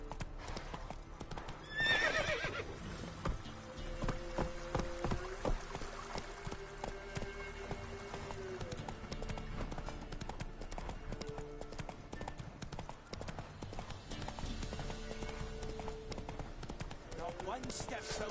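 Horse hooves clip-clopping at a brisk, galloping rhythm in The Witcher 3, with a whinny early on and game ambience and music underneath for the whole stretch.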